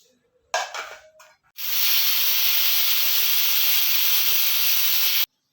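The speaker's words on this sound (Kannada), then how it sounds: "ಇವಾಗ ಇದು ಐದು ವಿಷಲ್ ಆಗಿದೆ" A pressure cooker cooking chicken sambar blasts its whistle loud and steady for several seconds, a sharp hissing steam release after a brief sputter, then stops abruptly.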